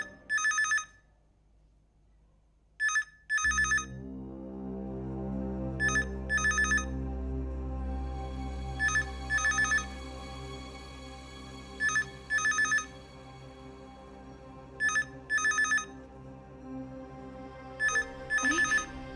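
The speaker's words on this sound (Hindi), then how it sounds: "पता तो करना पड़ेगा किसका फोन है" A telephone rings in repeated double bursts at steady intervals, clear and electronic, over a low sustained musical drone.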